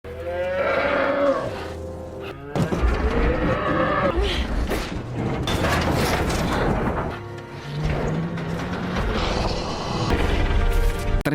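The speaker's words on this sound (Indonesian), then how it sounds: "Ternyata di sana ada kerbau raksasa yang tertimpa helikopter." Film scene from Kong: Skull Island in which a giant buffalo is pinned under a crashed helicopter: deep bellowing moos and groans mixed with crashing, creaking impacts and a dramatic score, loud and dense throughout.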